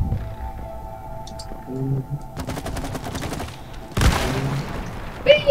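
Rapid machine-gun-like shooting in It Takes Two, two dense bursts of rattling shots with game tones and effects between them, moderately loud.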